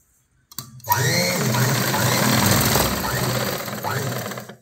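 An electric sewing machine runs steadily for about four seconds, stitching fabric for a blouse sleeve, a loud continuous mechanical whir after a brief start, with a voice faintly present.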